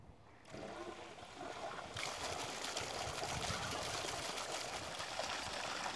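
A pond pump on a farm pond starts up and pushes water through a VEVOR sand filter. A steady rushing, splashing flow builds in two steps and then holds at a constant, fairly quiet level.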